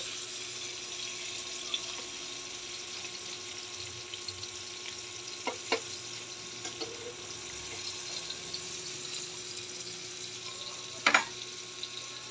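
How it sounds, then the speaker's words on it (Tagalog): Tuyo, salted dried fish, frying in a pan with a steady low crackle and hiss, joined by a few sharp clicks and taps near the end. "Luto tayo ng tuyo guys"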